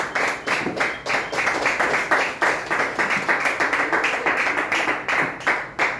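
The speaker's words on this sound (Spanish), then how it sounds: "regálenle un fuerte aplauso a Cristo" A church congregation claps steadily and enthusiastically, a continuous patter of many hands sustained throughout with no talking.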